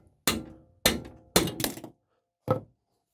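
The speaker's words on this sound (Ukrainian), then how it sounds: "Потихеньку отак молоточком." Small hammer gently tapping on the rear wheel of a Muravei motor scooter: five separate metallic knocks with short ringing tails, spaced irregularly, the third and fourth close together, near and clear with no talk.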